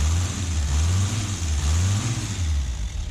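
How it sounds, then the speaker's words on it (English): A junkyard Datsun's engine runs steadily with a rough, knocking idle, its low drone and harmonics wavering slightly, close and continuous with no talk. "It sounds really knocky,"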